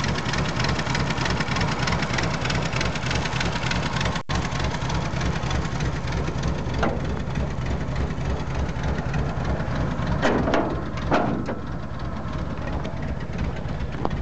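A 1981 Jeep Wagoneer with its 258 six-cylinder engine, freshly fitted with a new fuel pump, idles steadily and loudly up close with a rough, uneven running note and slight surges toward the end, as though near stalling.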